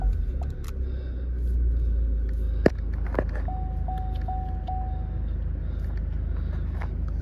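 A Vauxhall Astra 1.6 CDTi diesel, a facelift model, settles into a steady low rumbling idle after starting, with a single sharp click partway through and a faint repeating electronic chime alongside the engine drone.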